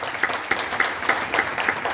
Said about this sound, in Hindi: अमृतपाल सर के लिए एक बार जोरदार ताली बजा दीजिए